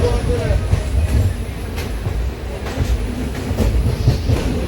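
Simhadri Express passenger train runs between Visakhapatnam and Guntur, heard from inside a crowded coach as a loud steady rumble with rhythmic clickety-clack of wheels over rail joints.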